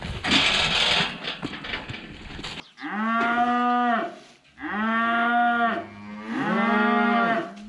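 Cattle moo loudly and close by on a farm during a cattle working day, in three long, drawn-out calls with short pauses between them. A burst of rustling and scuffling noise comes before the first call.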